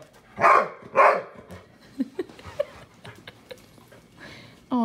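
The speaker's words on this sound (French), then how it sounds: "Buffy, pourquoi tu jappes après Francis?" A dog indoors gives two loud, close barks in quick succession, followed by softer yips, whimpers and small scuffling sounds.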